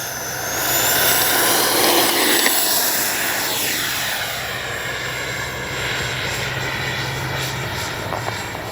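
An XFLY F-35 70mm electric ducted-fan RC jet with its landing gear down roars past overhead, loud whining engine sweeping in pitch as it approaches and then recedes, with no talk.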